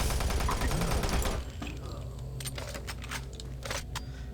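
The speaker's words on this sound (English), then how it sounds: "Pretty good gun. Machine gun, huh?" Loud burst of automatic machine-gun fire in the video game Doom 3 BFG Edition during the first second and a half, followed by quieter scattered shots and clanks against a steady low background hum.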